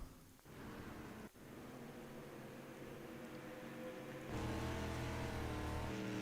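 Dirt street stock race car engines in a racing video game at a Volusia dirt oval, a continuous droning roar that thickens and swells louder near the end, with no talk.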